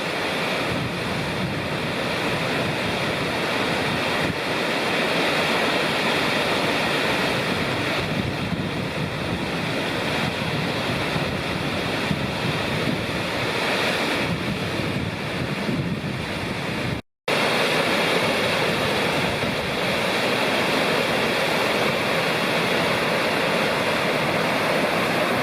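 Kawishiwi Falls on the Kawishiwi River in Minnesota's north country near Ely, a steady loud roar of rushing water heard close up, broadband and unbroken apart from a momentary dropout.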